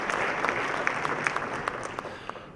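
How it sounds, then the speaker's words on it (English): Conference audience at a blockchain panel event gives steady applause, a sustained patter of many hands with individual claps popping out clearly, fading slightly toward the end. "Let's give Ricardo a round of applause"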